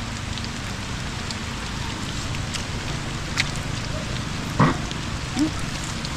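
Steady rain patters on a surface during a typhoon in Bucana, with a soft wind-like hiss and a couple of brief louder knocks near the end.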